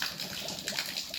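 Water pouring steadily into a backyard swimming pool as it refills after cleaning, a continuous soft gushing and splashing rush heard up close, with no talking.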